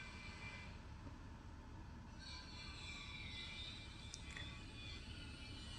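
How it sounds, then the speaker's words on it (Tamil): Cummins KTA50 diesel generator engine idling with no load, a steady, continuous low rumble and hum that stays even throughout, with no talking. "இப்போ டிஜி ரன்னிங்கில் இருக்குது"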